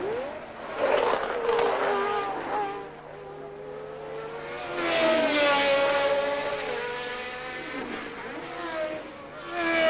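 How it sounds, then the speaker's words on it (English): Formula 1 cars race at the 1982 Belgian Grand Prix, their high-revving engines sending out whining tones that climb and fall in pitch as they pass, with a louder surge midway through. "Daly, Cheever, 4th and 5th, completing the lap"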